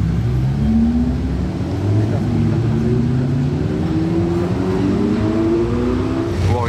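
A Ferrari 488 Pista Spider drives past on the streets of Monaco, its loud engine droning and climbing in pitch as it passes close by.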